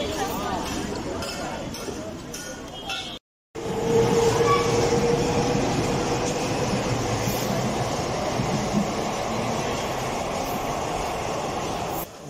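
Train running on the Western Railway line in Mumbai, a continuous loud rumble of wheels and carriages with a brief cutout, a faint squeal and metallic clinks, with people talking over it.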